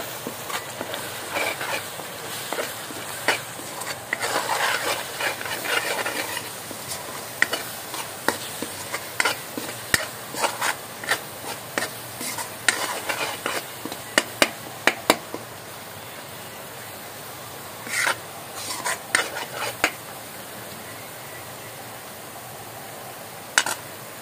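Black masala being stir-fried in a pan for Malvani-style chicken sukka, heard as a continuous close sizzle with many quick scraping and clattering strokes of a spoon that thin out toward the end.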